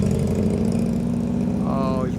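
Harley-Davidson Road Glide FLH with a blown twin cam engine and a 6-speed transmission, its loud, close engine rumbling steadily as it rides along the street, with a voice briefly heard over it.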